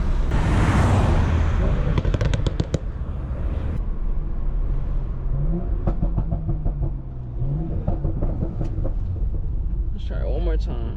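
A 500 hp stage 2 BMW M340 rumbles loudly from inside the cabin, with engine swells and sharp pops and crackles during downshifts, under steady road noise.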